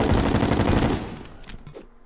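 A Vortex weapon in Terraria fires in a rapid, continuous burst of loud synthetic gunshots that cuts off after about a second, leaving a few scattered trailing pops.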